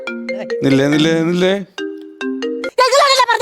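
A melodic electronic phone ringtone plays nearby, its tones repeating in short bright phrases, loud and clear with brief pauses between bursts.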